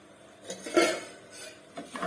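Two spoonfuls of sugar go into a pot for caramel custard, heard as a few metal spoon clinks and scrapes against the pot, one louder clatter in the middle, with quiet stretches between.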